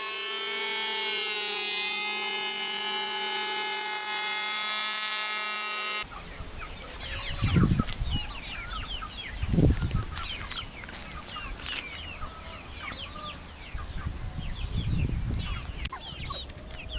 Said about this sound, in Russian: Курочки нашли солнечное место